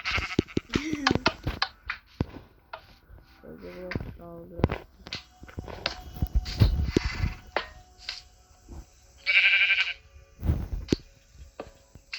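Sheep bleat amid people talking, with several short nasal bleats scattered through the stretch, one louder bleat near the end, and clicks and sharp snaps in between.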